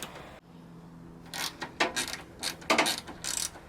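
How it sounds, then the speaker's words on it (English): Ratchet wrench undoing bolts on a battered Honda car, several bursts of quick metallic clicking at close range, irregular and fairly quiet with short pauses between them. "just going to undo two bolts at the top here"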